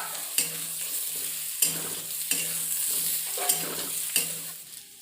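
Pointed gourd (potol) pieces sizzle and fry steadily in hot oil, with a continuous crackling hiss broken by several sharp stirring scrapes and clinks at roughly regular intervals; no voices.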